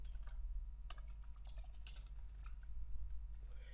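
Quick light keystrokes tap on a computer keyboard, close and fairly quiet, in short irregular bursts over a low steady hum.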